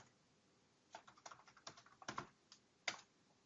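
Password typed on a computer keyboard during a VMware ESXi 5.5 setup: about a dozen close, crisp keystrokes in an uneven rhythm, heard alone with no voices.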